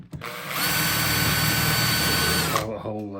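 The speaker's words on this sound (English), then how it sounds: "just drill through. 6mm hole." A power drill bores a 6 mm pilot hole in a workshop build of a fairground high striker. The motor spins up, holds one loud continuous whine for about two seconds, then stops, and a voice follows briefly.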